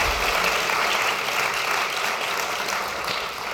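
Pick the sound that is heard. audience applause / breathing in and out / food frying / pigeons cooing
audience applause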